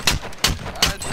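Three evenly spaced, sharp gunshots in a video game firefight, each a loud crack with a short tail, about a third of a second apart.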